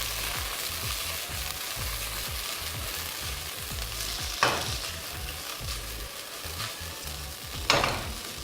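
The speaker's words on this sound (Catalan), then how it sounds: "li tirem ara ja la mongeta. Ara sí fa sorollet" Green beans sizzle in a frying pan with a steady close crackle, and two sharper scraping stirs stand out over the constant frying hiss; no one talks.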